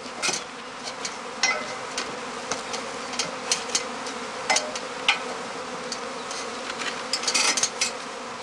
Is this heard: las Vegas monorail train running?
no